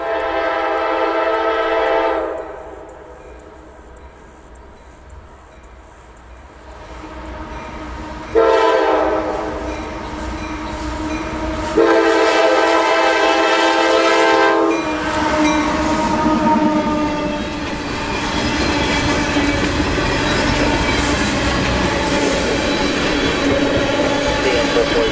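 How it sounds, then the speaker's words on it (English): A freight train with two locomotives, one leading and one mid-train distributed power unit, rolls north past a junction in Jacksonville, sounding loud horn blasts over a heavy, steady rumble of passing cars that swells as it nears. "442's headlights would crest the hill, rolling north over the hill with two locomotives, one up front and one as a mid-train DPU."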